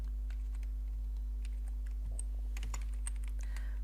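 Close, rapid keystrokes on a computer keyboard while C++ code is typed, irregular clicks and taps over a constant low electrical hum, with no talking.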